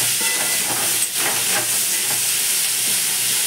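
Crabs frying in a wok with oil, a steady close sizzling hiss throughout with faint stirring scrapes, after being fried until red, no voices.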